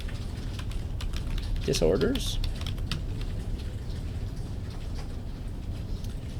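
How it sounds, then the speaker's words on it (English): Keys clatter on a computer keyboard in quick, uneven bursts at close range while a voice speaks over the typing. "so I just start typing"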